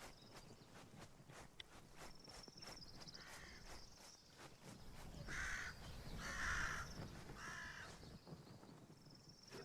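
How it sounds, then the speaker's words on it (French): Crows caw several times against a wind-and-nature ambience in the video game Mage Arena. The harsh calls bunch together near the middle while a soft, constant outdoor bed of wind and insects runs underneath. "à chaque fois qu'il y a un corbeau qui fait son bruit, bah il y a aussi le bruit de la nature et du vent"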